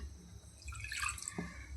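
A brief, faint trickle of water is added to buttermilk curry (kadhi) on the stove, heard close and alone with a few soft drips.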